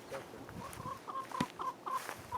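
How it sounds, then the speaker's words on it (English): Several short clucks from a few backyard chickens, including a black one, close by, with soft scratchy farmyard noise between them and no talking. "I hear chickens."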